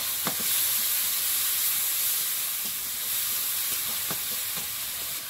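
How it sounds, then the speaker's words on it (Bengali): Spice paste with salt, turmeric, cumin powder and a little tomato paste frying in a pan, a steady close sizzling hiss with a few soft stirring scrapes, no voices. "মশলাটা কষানো হয়ে গেছে"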